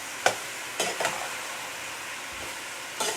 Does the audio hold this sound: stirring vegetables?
yes